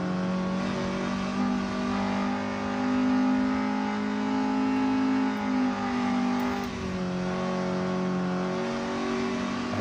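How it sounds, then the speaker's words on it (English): A Honda N-One in Gran Turismo 7 accelerating under load, its small engine droning and rising in pitch, with a gear change about two-thirds through dropping the revs before they climb again. "you can in fact hear the car changing gears"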